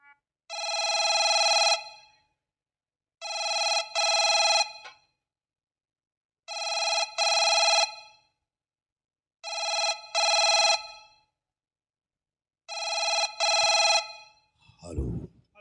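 A telephone rings in five long, trilling bursts separated by pauses, loud and clear, followed by a brief handling clunk as it is picked up.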